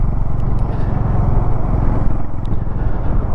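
A motorcycle grinds loudly through deep mud and slush in truck ruts on a high mountain track in Zanskar, Ladakh, the engine close and labouring with uneven revs and clattering knocks.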